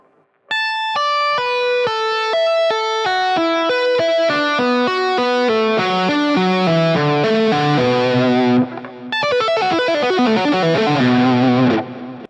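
Distorted electric guitar tapping out quick, bright two-note fifths in a steady descending run, loud and close, with a brief pause before the pattern resumes.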